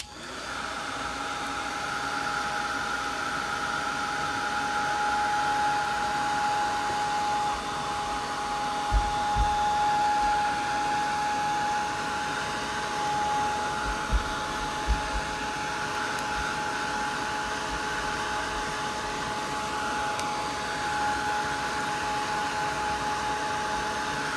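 A hair dryer blows steadily on thin painted book pages, a loud continuous whooshing drone that holds for over twenty seconds with a few faint knocks partway through.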